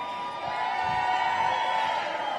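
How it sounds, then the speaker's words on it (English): A large outdoor crowd cheers and whoops in a continuous roar at a political rally in Dallas, Texas, with a high sustained tone cutting through the mix. "look at this. Look at this crowd right here."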